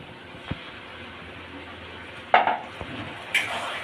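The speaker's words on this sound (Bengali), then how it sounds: "এই বাটা পেঁয়াজটা যতক্ষণ না লাল হবে ততক্ষণ আমি এটাকে কষতে থাকবো।" Onion paste frying in a pan for a Bengali egg and potato curry, with a soft hiss underneath and a few distinct clinks and scrapes of a utensil stirring against the pan.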